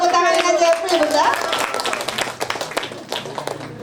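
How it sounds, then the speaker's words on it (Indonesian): Audience applause at a televised community talk event in East Lombok, a broad crackle of clapping under and after a host's voice, fading gradually over several seconds. "Kita beri tepuk tangan Ina Jeffrey, Bunda"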